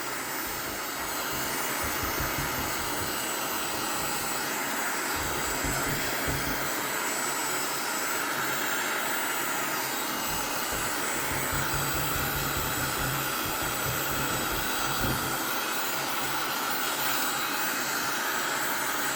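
A Black & Decker KX1650 heat gun blows hot air while stripping old paint from wood, a steady close whooshing hiss with a low motor hum that holds for the whole stretch, no talking.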